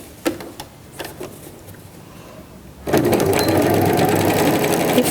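A sewing machine stitches a crystal plastic cosmetic bag lined with a milk-carton base, starting with a few scattered clicks and short bursts, then running in one long, steady, close whir to the end.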